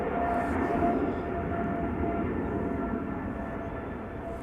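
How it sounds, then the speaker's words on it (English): An Embraer jet takes off at a distance, a steady muffled engine rumble that slowly fades, with no voices. "another Embraer taking off over here"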